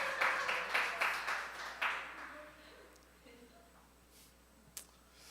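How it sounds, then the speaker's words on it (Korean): A church congregation claps in encouragement, several quick rippling bursts of applause in the first two seconds that die away to a quiet room with a few stray claps. "우리 박수로 한번 격려해 주십시오."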